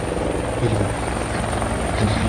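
A helicopter passes over countryside during a cloudburst flood, its steady rotor chop and engine drone loud and continuous throughout.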